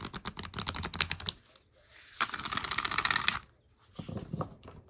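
Stiff oracle cards riffle and clatter in quick bursts, with pauses between rounds of shuffling, close and fairly quiet.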